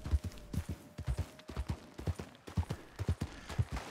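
Horse hooves clop in a steady, rhythmic gait in a video game, the close, fairly loud beats running for several seconds over a low game ambience with no talk.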